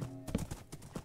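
Horse hooves clopping in Minecraft during a ride, a quick run of hoofbeats close by, moderately loud over faint background tones.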